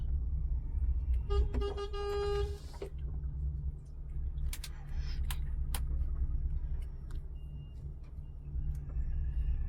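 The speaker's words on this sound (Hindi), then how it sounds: "लाइन में लग रहा है, इसलिए हॉर्न दे रहा है।" A car horn toots in a short series of honks while queuing in a line at a fuel station, over a low idling engine rumble, followed by scattered clicks and traffic noise.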